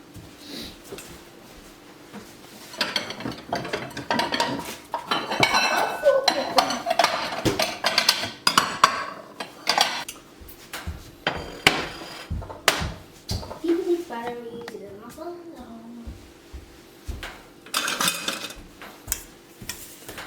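Coarse traditional corn porridge is served into a bowl with a utensil, making scattered clinks, taps and scrapes against dishware while people talk nearby.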